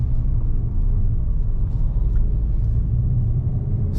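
A 2021 Peugeot 5008 with a 1.5-litre 130 hp BlueHDi diesel and 8-speed automatic gearbox drives along, giving a steady, close low rumble of engine and road noise inside the cabin.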